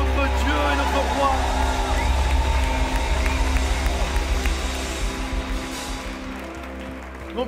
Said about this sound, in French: Est-ce qu'on peut applaudir encore plus fort notre Dieu et notre roi?